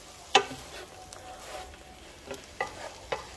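Cranberries stirred into a cooking dish on a stovetop, a few soft scraping and clinking spoon strokes over a faint steady sizzle, close by.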